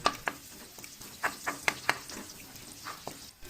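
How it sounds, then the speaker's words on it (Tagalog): Chopped garlic sautéing in a kawali in leftover pork fat for ginataang puso ng saging with pork: a quiet, close sizzle broken by sharp spatula taps and scrapes against the pan, with no talking. "igisa ang bawang"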